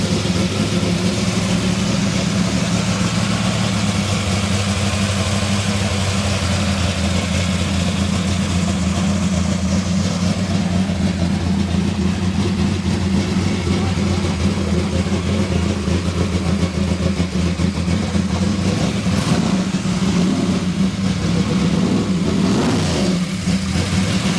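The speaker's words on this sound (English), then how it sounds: "you can turn the engines on and you can hear it" A loud Ford F100 truck engine rumbles at a steady idle, then revs up in a few surging bursts near the end, at an outdoor truck show.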